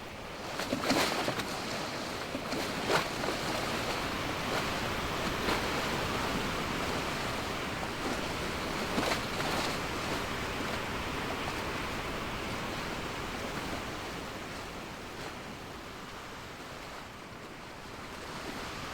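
Ocean waves in the sailing game Sailwind wash and surge steadily for the whole stretch, a broad constant roar of surf with a few sharper splashes near the start, with no talking.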